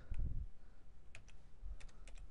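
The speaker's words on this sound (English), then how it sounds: "so we type in calculator" Typing on a computer keyboard while building a calculator interface in Visual Basic: a few scattered, quiet key clicks over a low room hum, with no talking.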